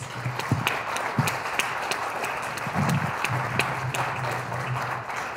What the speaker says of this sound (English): we'd like to have a round of applause for our candidates.